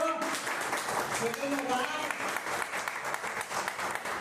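Congregation at a church service clapping hands in praise, a steady, fairly loud wash of claps mixed with voices and a short spoken phrase over it.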